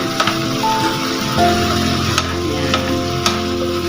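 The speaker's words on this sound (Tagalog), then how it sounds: "igigisa lang naman po natin ito saglit para masarap pong tikman" Vegetables, including broccoli, sizzle and fry in a pan for tinola while being stirred, a steady close hiss with occasional scraping utensil clicks.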